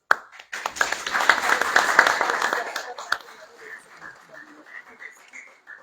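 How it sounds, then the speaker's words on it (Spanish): Applause from a seminar audience at a university, a dense burst of clapping that swells and then thins out toward the end, with brief voices and chatter mixed in. "Démosle un fuerte aplauso."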